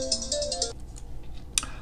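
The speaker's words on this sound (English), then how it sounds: "Sorry about the phone call." An incoming call rings on a phone in a quiet room, a bright electronic ringtone repeating for under a second before cutting off, followed by faint clicks and low background hum.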